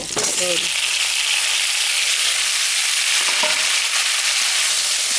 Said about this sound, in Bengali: পেঁয়াজটা ভাজা হয়ে গেছে আমি আলু বেগুন দিয়ে মাছটাকে রান্না করব